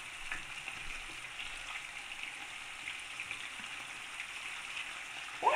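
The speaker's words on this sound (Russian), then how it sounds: "мясо у нас пошло жариться на большом огне, максимальном" Steady, dense sizzle of small pork pieces frying in a pan on maximum heat, continuous crackling and hiss throughout with no talking, ending in a brief louder clatter.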